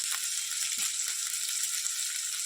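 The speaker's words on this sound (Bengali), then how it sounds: "ডালটা আমি এবার ফোড়ন দিয়ে দেবো।" Steady, even frying sizzle of a Bengali tempering (phoron) for cauliflower dal with ginger paste and turmeric, a constant hiss with faint crackles and no pauses.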